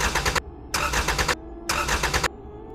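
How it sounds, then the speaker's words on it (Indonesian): A car engine cranks three times without catching, each burst a harsh grinding churn lasting about half a second to a second, separated by short silences, close and fairly loud. "Mesin mobil hanya mendesah,"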